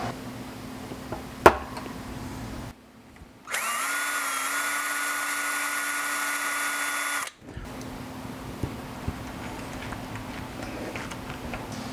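A steady, loud power drill whines for several seconds boring into a guitar body, starting and stopping abruptly, with quieter workshop noise and a sharp center-punch tap before it.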